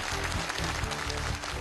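Studio audience at a televised Chinese idiom competition final applauds to welcome a team captain. The clapping is dense and steady, with a low hum of hall noise underneath.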